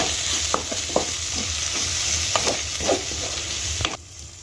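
Kashmiri chilli powder and turmeric masala frying in a pan, stirred with a spoon: steady broadband sizzle with several scraping strokes at an irregular rhythm, close and fairly loud, ending abruptly.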